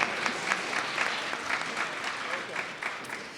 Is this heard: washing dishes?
no